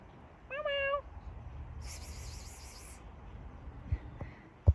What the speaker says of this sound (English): Oh, look, a kitty.